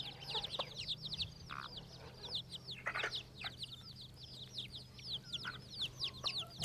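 A farmyard hen clucks softly among chicks, with a bantam hen and guinea fowl nearby. Rapid high peeping runs throughout over a low steady hum, all fairly faint.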